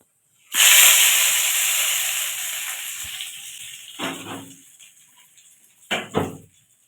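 Hot spiced tempering poured into cooked khichuri bursts into a loud, sharp sizzle that slowly fades, followed by two short spoon clatters against the pot.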